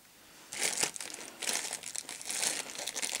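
Plastic yarn-shop packing bag cinched shut by tugging its drawstring, giving bursts of close, crisp plastic crinkling that come in three or four rustling waves, with no talk over it.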